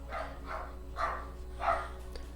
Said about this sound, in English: he is barking like